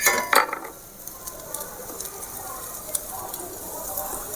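Carrots sautéing in a pan for drumstick-leaf fried rice, heard as a soft, steady sizzle with scraping and stirring clinks, a louder spatula knock near the start and occasional utensil taps throughout.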